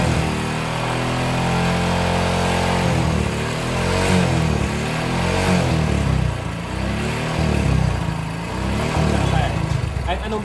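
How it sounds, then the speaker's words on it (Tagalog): A motorcycle engine runs loudly and steadily, its revs rising and falling in waves, with a voice speaking over it. "Kahit anong birit na natin yan sa motor."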